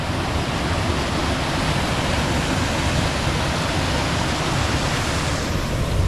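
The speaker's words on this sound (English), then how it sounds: "Very fast moving water" Fast-flowing stream water at Aira Force rushes in a dense, constant roar, loud and close, steady throughout with no voices.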